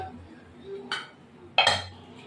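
A metal lid set down on a pot of rohu fish curry on the stove gives two close clanks, a light one and then a louder, ringing one, with no talk.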